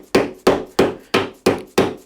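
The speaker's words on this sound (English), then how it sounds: "I'm going to hit it with a hammer a few times." Six sharp, evenly spaced hammer blows drive a large 4-prong lathe center into a wood billet, each a loud close thwack with a short ringing decay and no talk.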